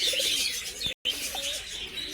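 Rajgolla and Gorra breed pigeons coo and chirp nearby in a soft, continuous chorus, with a brief dropout midway.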